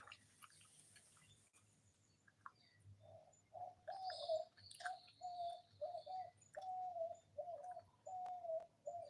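Outdoor birds: faint chirps and tweets early on, then a pigeon or dove coos in a steady repeating rhythm, close and clear over a quiet low background hum, with no voices.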